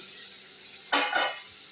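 Potatoes drop into a hot pan and burst into a short, loud sizzle that fades after a moment over quiet kitchen background.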